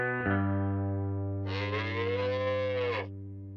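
Cattle in a farm barn: a sustained low drone under a long, wavering bovine moo that swells in the middle and fades out, fairly close and alone.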